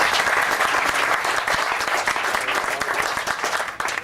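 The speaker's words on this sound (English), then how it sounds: "let's have one last round of applause for Andre" A baseball ceremony audience gives loud, sustained applause, a dense continuous roar of clapping from a large crowd that holds steady for the whole stretch.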